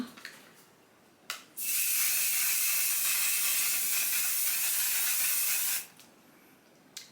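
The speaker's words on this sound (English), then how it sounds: "I'm gonna be setting my face with the One Size Until Dawn setting spray" A single long, loud hiss of aerosol makeup setting spray misted onto a face, lasting about four seconds, preceded by a brief short puff, close to the microphone.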